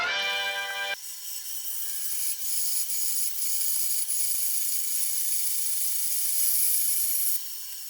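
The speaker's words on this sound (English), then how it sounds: "to the bandsaw!" A bandsaw runs with a continuous high, thin whir as it cuts wood for a guitar neck pocket template, the blade noise steady and close throughout.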